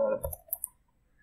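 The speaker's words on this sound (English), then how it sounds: "you highlight it by right clicking and dragging the with the mouse" A computer mouse gives a few quick, quiet clicks close to the microphone, alone in a brief moment.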